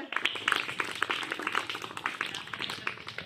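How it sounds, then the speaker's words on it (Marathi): Classroom applause for a school quiz winner: a steady patter of many small hands clapping at moderate distance, continuous for a few seconds with uneven individual claps standing out. "साक्षीसाठी पुन्हा एकदा टाळ्या वाजवून द्या।"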